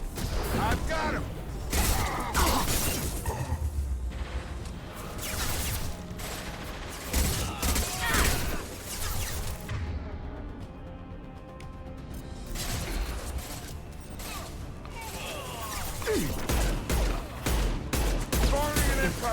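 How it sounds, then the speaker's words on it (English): Impact shot firing in Mass Effect 2 amid a long, chaotic battle: loud bursts of gunfire and crashing blasts come in clusters, briefly ease off midway, then build again into rapid shots. "Firing an impact shot!"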